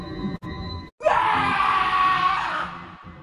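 A man's horror-story scream bursts out after a brief silence, loud and sustained for about two seconds with a wavering, anguished pitch before tailing off, alone with no talk.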